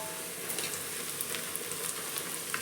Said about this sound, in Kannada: ನಾಲ್ಕು ಹಸಿಮೆಣಸಿನ್ಕಾಯಿ, ಈರುಳ್ಳಿ ಸ್ವಲ್ಪ ಗೋಲ್ಡನ್ ಬ್ರೌನ್ ಬರಬೇಕು.